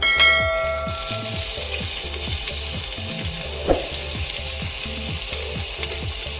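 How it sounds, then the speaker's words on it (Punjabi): Loud, constant sizzle of grated ginger frying in hot oil with cumin, close by, with soft rhythmic knocks beneath it. "ਅਦਰਕ ਨੂੰ ਅਸੀਂ ਭੁੰਨ ਲਵਾਂਗੇ"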